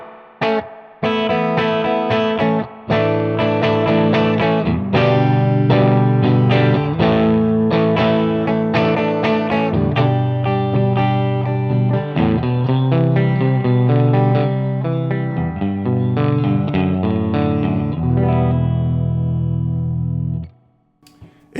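An electric guitar played through a Marshall JCM800 split-channel amp with reverb rings out in strummed chords and picked phrases, full and sustained with a reverberant tail, alone for about twenty seconds before stopping.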